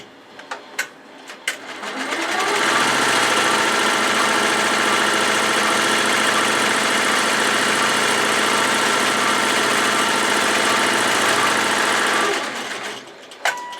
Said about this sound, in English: it is going to sew the next color, and this will sew down the liner fabric